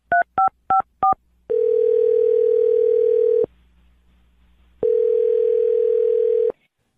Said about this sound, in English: I'm going to dial James' phone number right now